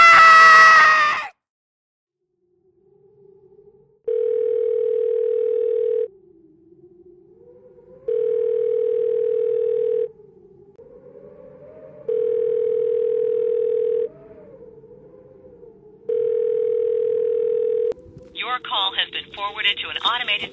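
Telephone ringback tone sounding four times in long, evenly spaced steady bursts on an unanswered call, clear and alone, with a short burst of voice just before and a voice starting right after.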